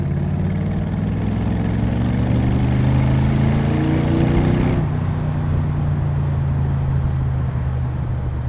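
A DAX Cobra replica engine pulls in third gear at about 1500 RPM under light throttle, a steady, loud low drone with rising tones that ease off partway, running continuously without talk.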